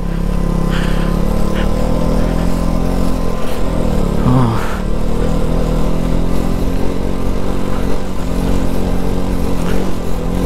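A motorcycle engine labours in low gear up a high-altitude mountain road toward Umling La Pass, a loud, close, continuous buzzing drone with steady strain throughout and brief wind noise.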